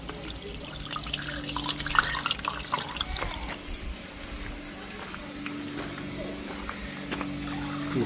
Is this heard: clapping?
no